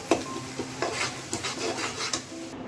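Onions fry in a wok for biryani, heard as close, soft sizzling under a run of quick rasping stirs and scrapes of a utensil against the pan.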